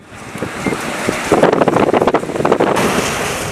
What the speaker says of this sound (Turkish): Denizli'de kuvvetli rüzgar çevreye zarar verdi.